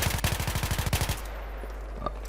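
Rapid automatic weapon fire from the video game Battlefield 3, a fast burst of about a dozen loud shots over roughly a second, then a quieter tail with a faint distant pop.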